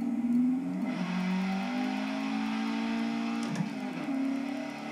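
A car drifting through a corner in the Forza racing game, heard as a steady engine drone held at sustained revs with shifting pitch and a brief rise near the end, alone without talk.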